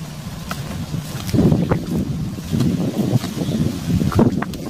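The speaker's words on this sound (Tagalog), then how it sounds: "Mahangin na, Junior, mahangin." Gusty wind from an approaching typhoon buffets the microphone outdoors on a farm in uneven low rumbling bursts, loud and close, with no one speaking.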